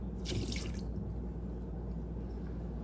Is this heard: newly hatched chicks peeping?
no